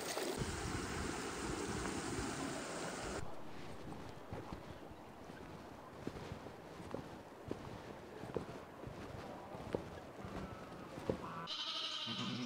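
Sheep bleat outdoors on a farm during lambing, the calls sounding intermittently among scattered short knocks and steady wind rumble across the microphone.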